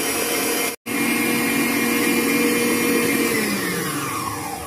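Electric hand mixer whipping egg whites as sugar is added to make a stiff meringue for a cloud cake, a steady loud whirring motor drone with one brief cut-out near the start, no voices.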